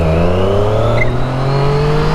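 A car engine revs loudly and steadily near at hand, its pitch climbing slowly through the whole stretch with no voices over it.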